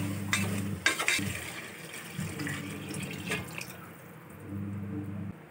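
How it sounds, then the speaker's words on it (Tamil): Water is poured into a cooking pot while tomato rice is being made. It splashes and trickles unevenly over a low, steady hum, with a few clinks of the vessel. "நம்ம அடுத்து தண்ணி சாப்பாட்டுக்கு தேவையான தண்ணி ஊற்றுறதுனால"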